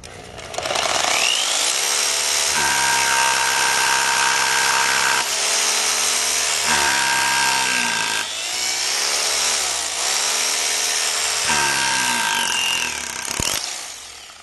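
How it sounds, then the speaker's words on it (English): Overhead drill machine pre-drilling a hole into concrete, a loud continuous grinding whine that rises and falls in pitch as it bores in bursts, with brief pauses between pushes, close and alone. "Pre-drill the proper size hole using the overhead drill machine."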